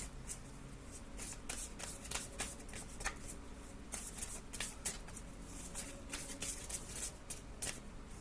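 Tarot cards are shuffled by hand to draw a card, with quick papery riffles and flicks in bursts that come close together, nearby and fairly soft, with no speech.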